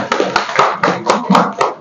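A class clapping hands together at the end of an online Indonesian language and science lesson: a short run of close, rhythmic claps, fairly loud, with no talking.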